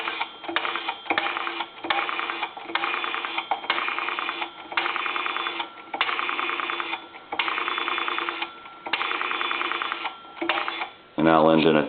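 A rapid series of tone bursts, like touch-tone dialing on a three-slot payphone line, repeating in even groups with short gaps, then a brief louder warble at the end.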